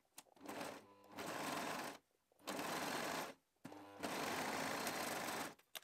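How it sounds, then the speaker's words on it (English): A sewing machine stitching a jersey top runs in three bursts of about a second each, separated by short pauses as the fabric is turned to back-stitch along the seam, close and steady. "I'm just going to flip it the other way and stitch back down that stitch line."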